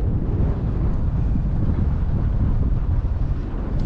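Strong wind buffets a hilltop overlooking a lake in the Mandaragiri Hills, a steady rumbling roar that fills the whole stretch with no voices.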